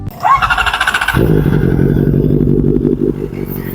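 A Kawasaki Ninja ZX-4RR motorcycle's starter whirs briefly, then the engine catches and settles into a loud, steady, rapid idle thump close by.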